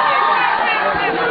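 Crowd cheering and applause welcoming the first contestant of a dance competition at a drama event in Kavre, Nepal, a loud continuous roar of voices and clapping filling the space.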